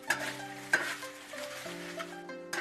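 Chopped chili peppers stir-fry slowly in clear oil over low heat for spicy Sichuan fermented tofu, giving a steady crackling sizzle with a couple of sharp spatula scrapes against the wok over a faint sustained tonal hum.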